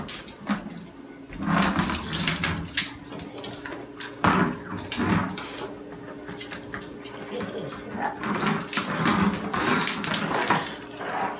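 A puppy whimpers and growls in short, uneven bursts while playing roughly, close to the microphone, with intermittent scuffling and handling noises between the sounds.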